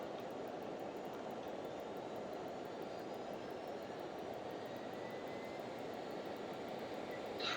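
Learjet 35A jet engine in Microsoft Flight Simulator, a steady broadband jet roar with a faint rising whine, fairly constant and heard alone without talk.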